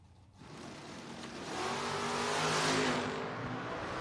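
A candy apple red 1967 Camaro race car accelerates on track, its engine note swelling from a steady drone into a loud, rising rev that holds strong to the end, with no talk over it.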